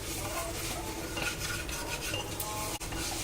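Steady scraping and stirring of khichdi with red chilli flakes, coriander powder, garam masala and salt being mixed in a pot, a continuous close rubbing sound with a faint sizzle and one brief clank near the end.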